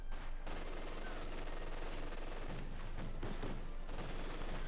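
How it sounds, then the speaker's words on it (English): Heavy autocannon fire rattles in Company of Heroes 2 battle, a dense, continuous barrage of rapid shots and impacts blended with other gunfire in the background, steady and fairly distant throughout. "here's the sand cover slowly evaporating under heavy autocannon fire"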